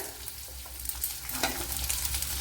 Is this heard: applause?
no